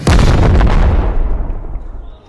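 A weapon fires in the video game Animal Company: one loud, booming blast that rolls out into a long rumbling decay, close and dominant.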